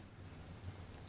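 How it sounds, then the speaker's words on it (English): A relay inside a 1980s Breckwell pellet stove controller gives a single faint, sharp click near the end, over a low steady hum. "I just heard a relay clicking"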